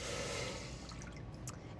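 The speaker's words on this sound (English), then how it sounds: "We are going to add in 3/4 cup of water" Three-quarters of a cup of water pours into a pot fitted with a candy thermometer, a soft gushing splash that tapers into light drips and trickles, heard without talk.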